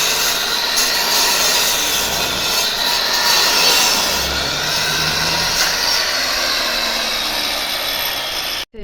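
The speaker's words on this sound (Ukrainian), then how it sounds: "Чоловік болгаркою його пиляє." An angle grinder cuts steadily for several seconds during window installation, a harsh high whir that ends abruptly.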